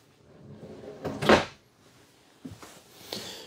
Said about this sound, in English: you have, again, full extending ball bearing drawer guided drawers.